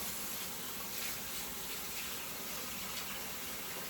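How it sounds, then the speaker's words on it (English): Water pours steadily from a running kitchen tap as hands are briefly washed while biscuits are being made, a constant close hiss of splashing with no break and no talk. "I'm just going to wash my hands briefly here"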